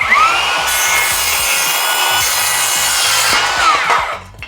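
A hand saw rasps steadily through a wooden board, loud and close, with continuous back-and-forth strokes that end abruptly.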